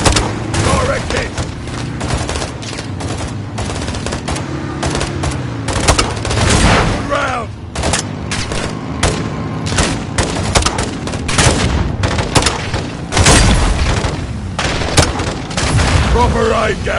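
Dense gunfire and launcher blasts from a Call of Duty battle, sustained rapid bursts and booms overlapping continuously at close range, with shouted voices mixed in.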